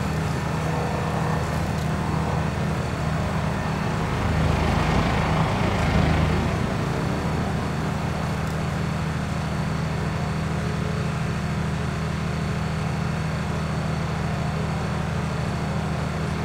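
A tractor engine in Farming Simulator 19 strains under a full load, a steady droning rumble that swells briefly midway and then settles into a continuous hum, with no talking.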